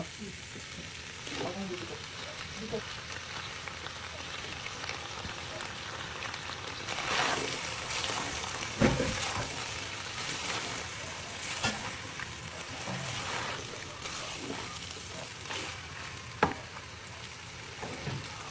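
Liver, hotdog and vegetables sizzle in a pan for menudo, a steady frying hiss with stirring scrapes and occasional sharp pops and clinks, close and continuous, with faint talk now and then.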